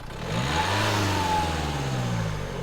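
A 2016 Renault Kadjar 1.5 dCi diesel engine with flat performance revs up loudly and holds at a raised pitch, its low droning tone rising then easing slightly, close by with no talking.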